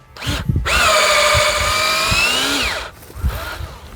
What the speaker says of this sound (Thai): เดี๋ยวเรามาเจาะให้ดู ชัด ๆ เลยอ่ะดูนะ